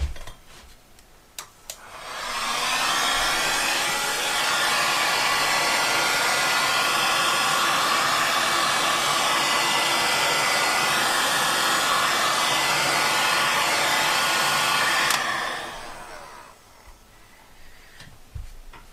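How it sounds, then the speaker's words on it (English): A heat gun blows steadily on poured resin for a clock for about thirteen seconds, a loud, even broadband rush that starts and cuts off abruptly, with quieter room noise before and after. "I'm going to get the heat gun on it because that'll help"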